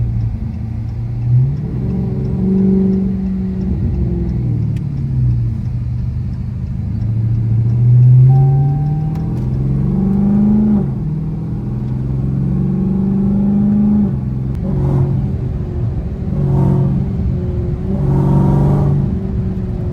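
A Dodge Hellcat engine roars and revs through the gears in a loud, continuous run up into sixth, with rising and falling pitch sweeps as each shift lands and a deep rumble underneath.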